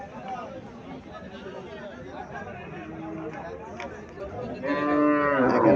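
Haryana-breed cow at a cattle market in Comilla, one long loud moo rising near the end over a murmur of crowd chatter and nearby voices.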